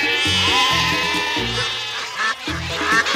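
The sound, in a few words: sheep bleating from a device's sheep-lure mode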